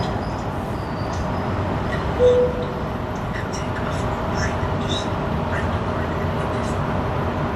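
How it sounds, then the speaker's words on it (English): An old Tatra tram rolls through Sofia with a continuous low rumble and rattling from inside the car, plus a brief squeal, while a voice talks over the steady ride noise. "It is one of the older Tatra trams, which are super fun to ride"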